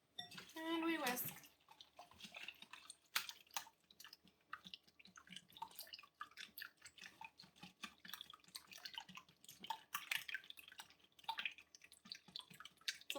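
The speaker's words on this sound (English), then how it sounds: "And we whisk." A whisk beats eggs for cornbread batter in a bowl, making faint, irregular clinks and taps against the sides that continue throughout.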